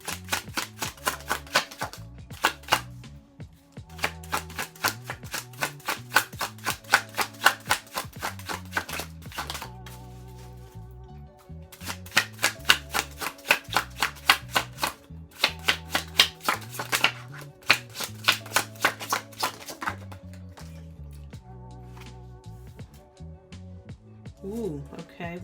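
Tarot cards being shuffled in repeated bursts of rapid riffling clicks, several rounds separated by short pauses, close and crisp.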